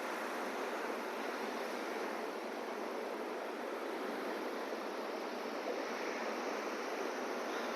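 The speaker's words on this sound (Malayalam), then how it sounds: "കടലിന്റെ സൗണ്ടാണ് കേട്ടോ" Sea waves wash onto a beach near Vettukad church, a continuous, faint roar of surf rolling in the distance without clear breaks or voices.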